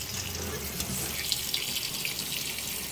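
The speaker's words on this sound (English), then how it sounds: "I'm just going to put some cold water on it" Steady running cold tap water splashing continuously over a polyester dress, close and fairly quiet, with no talking.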